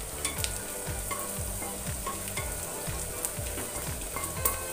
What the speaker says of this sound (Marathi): तर कांदा आपल्याला छान परतून घ्यायचा आहे.